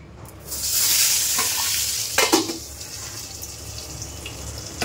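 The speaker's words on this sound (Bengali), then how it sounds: "মেয়ের জন্য 2 পিস বেগুন ভাজা বসালাম" Two pieces of brinjal (eggplant) frying in a pan make a loud hissing sizzle that swells at first and then settles into a quieter, steady crackle, with a few sharp spatters partway through.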